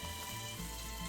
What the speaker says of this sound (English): you can hear it, like, sizzling